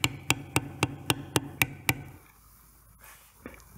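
A mallet strikes a check beveler stamp along a leather border, eight crisp evenly spaced taps in a quick steady rhythm, close and clear, then quiet room tone.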